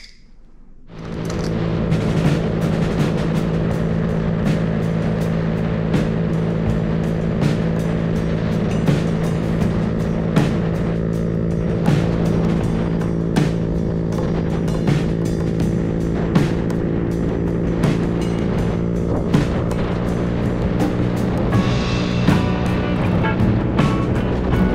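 A Honda Grom motorcycle riding on the way to a lake dam, a steady droning engine hum that starts after a quiet second and holds on with wind buffeting and occasional ticks, close and without talk.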